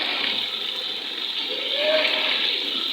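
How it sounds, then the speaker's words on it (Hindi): Water is poured into a pot of chicken and capsicum curry on a stove, giving a steady, moderately loud rushing pour that swells slightly near the end. "थोड़ा सा पानी हम शामिल कर लेते हैं,"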